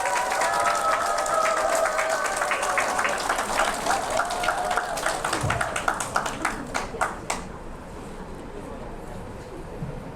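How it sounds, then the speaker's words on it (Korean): Audience clapping for a lecturer at a Catholic talk on the Virgin Mary, steady applause thinning into scattered claps and fading to quiet near the end, with a hint of voices underneath. "큰 박수로 맞이해 주시기 바랍니다."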